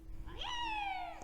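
A video game toad's scream processed with plate reverb and ordinary reverb, a single rising then slowly falling squeal with bright overtones that rings on and fades into a reverberant tail, heard alone.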